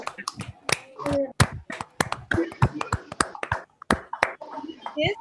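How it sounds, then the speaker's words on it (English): Participants in an online quantum physics conference unmute and clap at the close of the event, producing scattered, uneven individual claps and snaps that arrive sharp and close over the call, with a voice speaking in between. "So unmute and clap, everyone."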